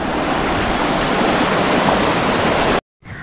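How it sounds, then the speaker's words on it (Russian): A river stream in a town park in Telluride, Colorado rushes with a loud, steady, close roar of flowing water that cuts off abruptly just before the end. "просто наслаждаться природой, звуками воды"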